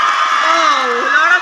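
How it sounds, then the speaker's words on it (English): Audience cheering and shouting at a school investiture ceremony, a dense sustained crowd roar with raised voices carrying through, loud and continuous throughout. "Oh, lot of cheering."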